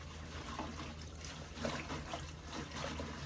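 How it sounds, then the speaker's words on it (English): Food is washed with plain water before going into a crock pot, the water trickling and splashing softly and continuously at close range, with no talk. "And then I'm going to go ahead and wash them with just plain water."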